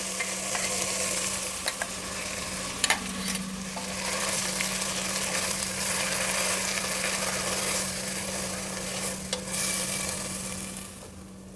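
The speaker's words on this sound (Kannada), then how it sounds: "ಈಗ ಮಸಾಲೆನ ಸೇರಿಸ್ತಾ ಇದ್ದೀನಿ," Ground masala is stirred into a frying pan, the oil sizzling and hissing steadily while a spoon scrapes and stirs in several bursts, close and alone without talk.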